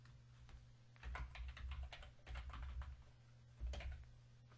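Computer keyboard typing a short layer name, a few quick bursts of soft key clicks with brief pauses between, quiet and close.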